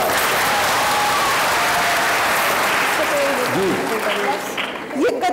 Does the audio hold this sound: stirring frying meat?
no